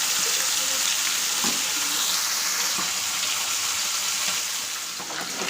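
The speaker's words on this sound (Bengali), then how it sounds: "তেলটা ফুটছে" Oil heats and sizzles in a frying pan in a home kitchen, a dense, steady crackling hiss heard up close. Small pops and faint clatter sound underneath throughout.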